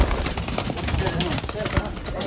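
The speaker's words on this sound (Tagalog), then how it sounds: "mga kalapatids, mga imported lahat yan" Imported pigeons in a loft give soft coos and flutters amid people talking nearby, brief and partly masked by the voices.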